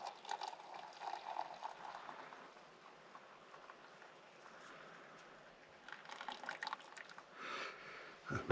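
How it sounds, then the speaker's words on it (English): Water boiling in a pot at a van campsite, a steady, faint bubbling and hiss with small drips and pops swelling toward the end, heard alone up close. "and that's boiling."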